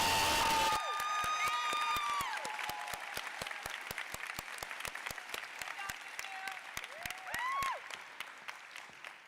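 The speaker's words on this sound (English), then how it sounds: "Please join me in applauding our exceptional salutatorian, Norah Islam." An audience at a 2025 girls' school graduation ceremony applauds the salutatorian with dense, steady clapping that fills the room, mixed with a few high whoops and cheers, and slowly thins toward the end.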